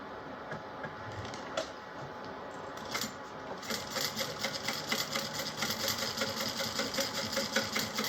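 A sewing machine top-stitches along a folded-down fabric edge, starting with scattered handling noises and then settling into a steady, rapid mechanical whir that runs through the second half, close and moderately loud.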